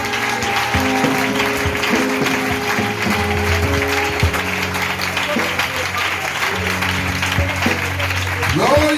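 A church congregation applauds strongly and continuously throughout, with voices and music mixed in under the clapping.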